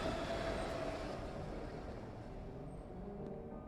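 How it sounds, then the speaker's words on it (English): Train running in the dark in the horror game When the Darkness Comes, a steady low rumble and rattle of rail cars fading slightly, with no talk over it. "Train in the dark."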